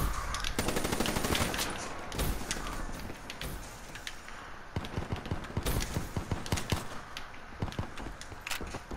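Rapid automatic gunfire from a Call of Duty Black Ops III multiplayer match, dense bursts and sharp single shots rattling continuously, loud and close, with scattered distant reports and no voices.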